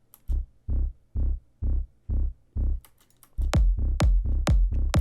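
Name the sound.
electronic music drop with distortion added to the lows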